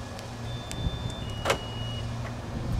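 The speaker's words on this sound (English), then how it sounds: "if you walk up to the car and it is locked and you press the unlock button on the key fob," A Lamborghini Murcielago Roadster gives thin electronic beep tones when unlocked with the key fob, along with soft clicks and a brief mechanical clunk, heard faintly at close range over a low background rumble.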